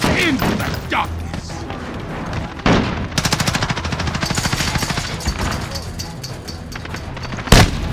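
Rapid automatic gunfire from a first-person shooter match, bursting loudly through most of the stretch with a few heavier blasts, under hurried voice chat and game announcer callouts.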